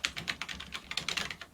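Rapid, irregular clicking of keys as an email address is typed on a laptop keyboard, close and moderately loud with no voices.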